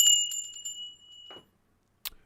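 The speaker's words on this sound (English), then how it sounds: "Tinkly bells." Small tinkly bells ring in a quick cluster of bright, thin chimes that fade, followed by a soft rustle and a sharp tap, with no talking.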